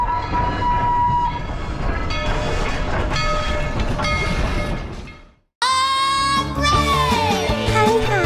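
Toy train sounds play loudly, a horn-like whistle over rolling clatter, then break off briefly and resume with a bright, wavering tonal whistle.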